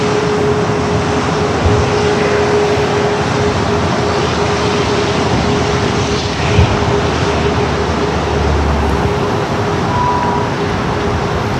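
An Alaska Airlines jet on its takeoff roll from runway 25 right at LAX, a loud, steady broadband engine roar with a faint sustained whine, heard from a distance without any talking.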